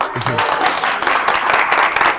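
Applause from a symposium conference audience fills the room, a dense steady clatter of many hands carrying on throughout with some voices underneath.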